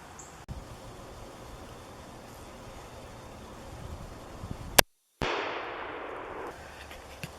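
A single handgun shot fires a 200 grain Hornady FTX bullet outdoors, one sharp loud crack followed by a brief dropout and then a decaying wash of noise.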